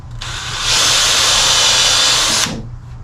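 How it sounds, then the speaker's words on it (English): A power drill with a countersink bit bores into deck wood, giving one short, close, high-pitched whirring burst of about two seconds that starts and stops abruptly. "I'm going to use a countersink bit"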